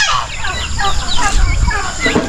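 Chickens and turkeys on a farm cluck and chatter in a busy, overlapping flock, loud and close, with occasional sharper calls rising above the continuous fowl noise.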